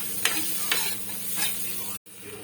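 Peanuts dry-roasting in a pan over a low flame, giving a soft steady sizzle with a few scraping stirs, then a brief dropout before the frying hiss resumes.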